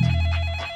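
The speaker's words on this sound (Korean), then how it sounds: "한 유튜버에게 다급한 전화가 한 통 걸려오는데요." A telephone rings with an electronic ringtone in short pulsing tones, close and fairly loud, over a low hum, brief and with no speech.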